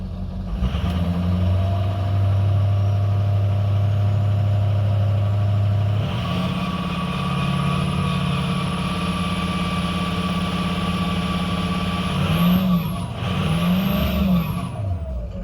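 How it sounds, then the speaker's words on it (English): A Ford 6.0 diesel truck engine with an injector fault idles steadily with a deep, low rumble, then its tone shifts partway through and it revs slightly a couple of times near the end. "Looks like we're seeing drops on 7 for sure."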